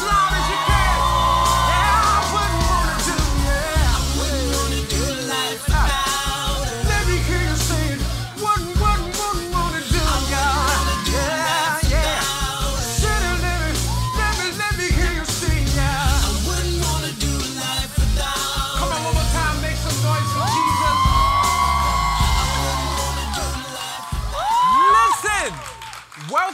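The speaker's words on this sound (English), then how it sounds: "somebody scream as loud as you can." A church-style audience at a live show screams and cheers loudly for nearly half a minute. The yelling and whooping stay dense, with piercing individual shrieks standing out, before fading slightly at the end.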